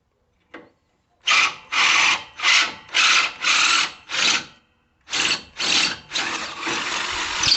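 A power drill whirs in a series of short, loud bursts while drilling out a hole on a riding mower rear lift, about nine close pulses with brief gaps, the last one running longer.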